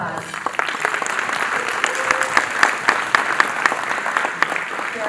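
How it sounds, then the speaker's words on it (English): An expo audience at a Latino Chamber of Commerce event in a room of about 300 people applauds steadily, a dense patter of clapping filling the space for several seconds, with a few voices mixed in. "Let's give ourselves a big round of applause."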